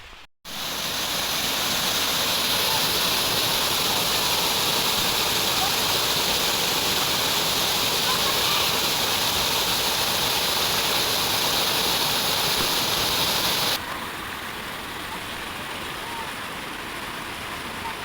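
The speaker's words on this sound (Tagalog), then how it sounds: "Ang lakas ng agos ng tubig" Loud, steady rush of a strong spring-water current flowing close by at a spring resort in Negros Occidental, a constant roar that drops slightly in intensity near the end.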